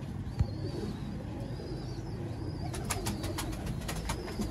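Pure Sialkoti Sheikh breed pigeons coo softly and steadily in low repeated phrases, with a few higher chirps and brief wing or clicking sounds over a constant murmur of the flock, and no talking.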